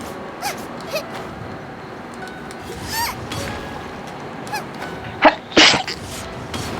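A sharp sneeze bursts out near the end after quieter shuffling and soft noises, close and loud.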